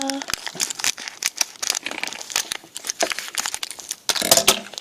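A powder packet from a powdered cake kit is cut open, giving close, busy plastic crinkling and rustling with sharp snips. A voice talks over it.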